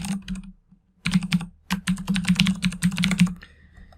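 Fast, close typing on a computer keyboard while an app name is entered, with dense clattering key strikes, a brief pause near the first second, then a steady run of keystrokes.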